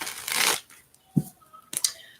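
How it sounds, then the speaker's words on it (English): Tarot cards are shuffled in quick riffling bursts, a loud flurry at the start and another near the end, with a brief soft thump between. "3 shuffles down for Wanda. 3 shuffles down for Wanda. 1 more for Wanda."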